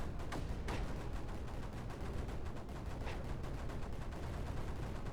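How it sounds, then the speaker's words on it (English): Relentless weapon barrage from the strategy game Creeper World 4, a dense, continuous roar of overlapping shots and blasts with a few sharper cracks standing out, loud and unbroken throughout. "The non-stop barrage continues"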